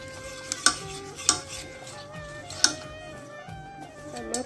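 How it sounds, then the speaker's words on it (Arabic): Utensil stirring chocolate mirror glaze in a pot, with soft continuous swishing and a few sharp clinks against the pot's side. "غنحرك بحال هكا باش ما يديرش لكم كبيرات"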